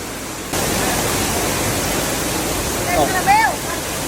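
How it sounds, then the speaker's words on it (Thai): Heavy rain pouring down on a Thai likay folk theatre troupe: a loud, steady broadband rush that starts abruptly after half a second and continues evenly, with a brief voice-like sound near the end. "ดูฝนตก คือลิเกต้องมานั่งรวมกันอะ ตกแบบไม่ไหวนะฮะ"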